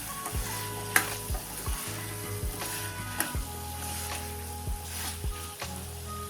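Eggplant, potato and peas sauté in hot oil while a spoon stirs them, giving a soft steady sizzle with regular scraping strokes against the pan, close and fairly quiet, with no talking.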